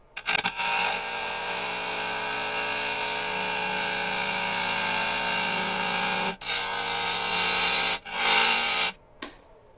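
A saw makes thinning cuts through a dry box elder burl, giving a steady whining grind that runs for several seconds, drops out briefly twice and then stops.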